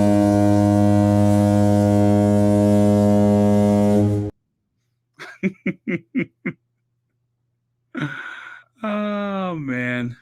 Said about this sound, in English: There might be a foghorn.